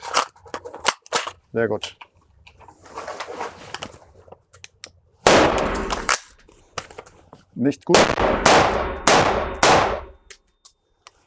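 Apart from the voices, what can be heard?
gunshots during shooting training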